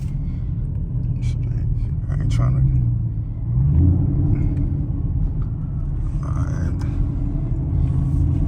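A custom Camaro 2SS on 24-inch Rucci wheels rumbles with a low, steady engine drone while driving late at night, swelling slightly midway, as someone talks over it inside the car.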